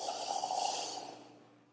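A single long inhale through the nose during a yoga flow, close and clear, rising then fading out after a second or so, with no talking over it.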